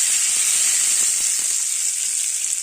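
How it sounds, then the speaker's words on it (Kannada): Hot tempering poured into coconut chutney hisses in a loud, steady, bright sizzle that holds evenly throughout, close up and alone, with faint bubbling crackles underneath. "ಚಟ್ನಿಗೆ ಒಗ್ಗರಣೆ ಹಾಕ್ತಾನೆ"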